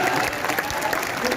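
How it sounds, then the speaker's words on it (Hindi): A seminar audience at a friends' meet claps loudly, with dense, steady applause filling the whole moment and some crowd murmur mixed in. "ताली बजाने में जोर से"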